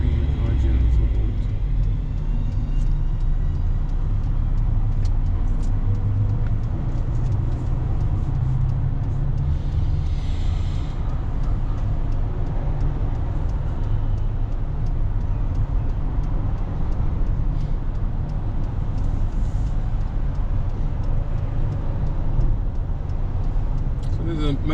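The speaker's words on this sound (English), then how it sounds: "Bringing the car gently forward." Car edging slowly forward in traffic around Southampton roundabouts, a steady low engine and road rumble heard from inside the cabin, with an instructor talking over it.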